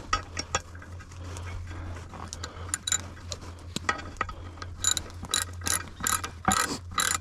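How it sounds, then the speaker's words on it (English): A ratchet wrench tightens a clamp on a grounding rod. Quick bursts of clicking pawl teeth come in uneven strokes over a steady low hum, getting sharper and louder toward the end. "Got a ratchet here, so you know, if I set it the right way to tighten it."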